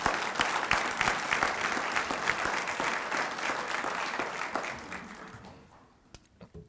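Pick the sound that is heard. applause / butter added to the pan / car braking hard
applause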